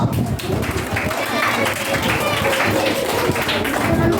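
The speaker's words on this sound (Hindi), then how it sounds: "जोरदार तालियां" Brisk applause from a quiz show audience fills the whole stretch, with voices mixed in underneath the clapping.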